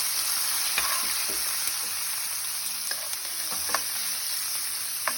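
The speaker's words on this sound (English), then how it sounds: "I'm cooking up the seasoning on the same pot where I fry the breadfruit in the same pot" Red and green peppers, onion and hot scotch bonnet peppers sizzle steadily in the same pot used for frying breadfruit, with a dense, even hiss broken by occasional light clicks of stirring and no talk.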